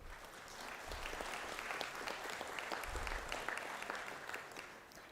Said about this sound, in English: Round of applause, please, for Olivia.